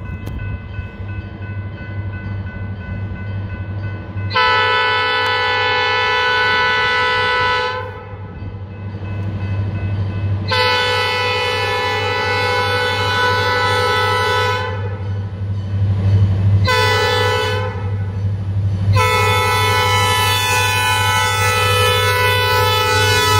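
A freight train hauling pulpwood crosses a road on an uphill grade, sounding its horn in four long loud blasts over a steady low rumble of the engine and rolling cars.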